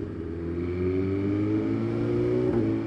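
A 1000 cc motorcycle engine pulls steadily under way, its loud, close drone holding even and rising slightly in pitch as the bike accelerates without a break.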